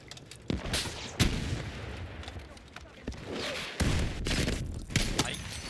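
Explosions and gunfire in a shooter video game during a fight with a tank: bursts of booming blasts and shots at an irregular pace, loud and continuous over a rumbling background.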